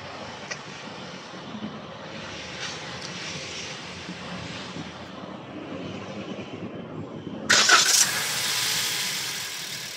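A Toyota Veloz/Avanza 2023 engine cranks and fires, a sudden loud start near the end settling into a steady idle hum after quiet workshop ambience.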